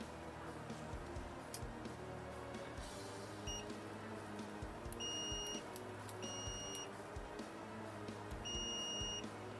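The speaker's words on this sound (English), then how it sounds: "Don't know if you can hear the beeping" A Behringer GMA106 under troubleshooting emits faint, high, short beeps, mostly in pairs and recurring every second or two over a low hum and steady background noise.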